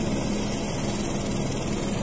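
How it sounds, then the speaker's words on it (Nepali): Helicopter at Gosaikunda lake on the Gosainkunda trek, a steady loud rotor and engine roar that fills the whole stretch without breaks, with no talking. "हेलिकप्टर ल्यान्ड भयो भर्खरै।"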